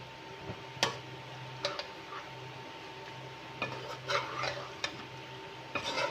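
Chopped green chilies added to a spicy liver masala in a pan: a spoon clinks and scrapes sharply against the metal pan several times over a faint, low sizzle, with no talk.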